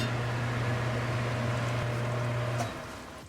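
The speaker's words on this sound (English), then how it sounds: "I'll turn the fan on" Kitchen exhaust fan above a stove hums steadily with a low tonal drone and broadband whoosh, then cuts off and winds down near the end.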